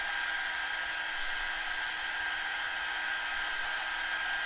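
A hair dryer blows steadily on a transfer, a loud, constant whooshing hum with a high motor whine that does not change for the whole stretch.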